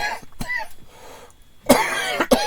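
Two sharp, close coughs break a quiet stretch, followed by a brief throat-clearing sound.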